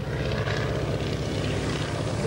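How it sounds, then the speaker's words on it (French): A propeller airplane in Army Air Corps colours drones steadily at a 1993 air show at Cambrai air base, a loud continuous engine hum filling the whole stretch. "cet avion porte les couleurs de l'Army, Army Air Corps"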